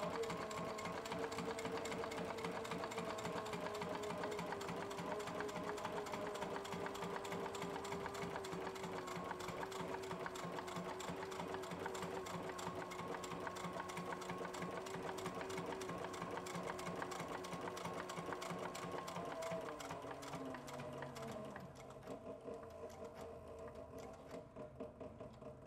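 A sewing machine stitches a leather satchel in a long, steady run of fast mechanical needle chatter, loud and close, easing and slowing near the end.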